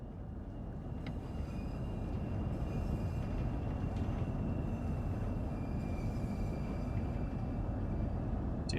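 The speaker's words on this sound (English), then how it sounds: "Begin applying a small amount of braking force to bring the train to a gentle stop." A passenger train in a train simulator game brakes gently toward a station stop: a constant, close rumble of wheels and carriage noise with faint thin squeals of the brakes threaded through it.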